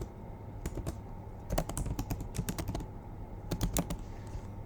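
Fingers type code on a computer keyboard in quick bursts of crisp, close key clicks, with short pauses between runs and a steady low background hum, and nobody speaks.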